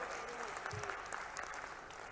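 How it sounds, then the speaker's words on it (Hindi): A crowd at a farmers' and employment rally in Dandraua claps in a scattered, fairly faint patter that continues throughout, with a speaker's voice over it. "ताली कम बज रही, अगली घोषणा करूंगा कि नहीं करूंगा बताओ जरा।"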